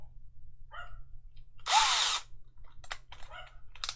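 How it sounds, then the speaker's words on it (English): A power drill bores a 3mm hole in brass for a dual 18650 box mod, a single loud half-second whine of the bit biting into metal, set among quieter clicks and handling noises. "I'll drill a 3mm hole to start off with."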